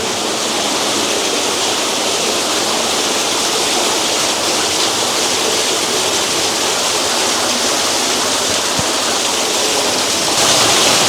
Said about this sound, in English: That is some loud running water. Woo! It's a waterfall.